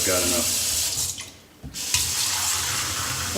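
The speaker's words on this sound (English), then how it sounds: "you probably can't hear me over the water" Hot water gushes steadily from a tap into a container, loud and close, briefly dropping in level midway before resuming its constant rushing flow.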